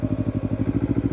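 A motorcycle engine dropping in revs and bogging under load as the clutch is let out without throttle, a close, low rhythmic putter of fast regular firing pulses.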